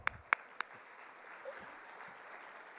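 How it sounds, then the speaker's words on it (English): At a bank-sponsored annual chamber dinner, three sharp claps ring out near the start, then a faint, diffuse patter of crowd applause continues quietly in the background. "Give them a round of applause."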